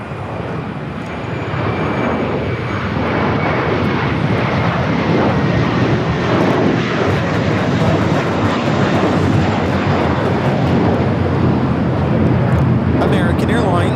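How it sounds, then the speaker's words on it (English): An American Airlines Airbus A321 takes off at Los Angeles LAX, giving a loud, sustained engine roar that holds steady across the whole stretch while a voice talks over it. "American Airlines 1595 taking off to Chicago on the A321"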